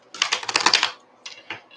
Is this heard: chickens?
no